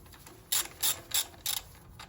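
A ratchet wrench clicks in four short bursts of rapid pawl ratcheting while snugging bolts on a Toyota 2AR-FE engine, close and distinct with short gaps between strokes and no talking.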